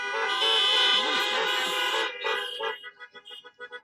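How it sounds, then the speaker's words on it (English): Car horns blare in a long, loud, overlapping honk at a community action assembly, then break into a string of short rhythmic toots. "that deserves a great big honk."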